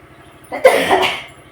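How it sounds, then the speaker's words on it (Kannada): A woman gives a single loud, close cough, one harsh burst that breaks a quiet background with a low idling hum. "ಈ ಥರ ಕೆಮ್ಮಿದೆ"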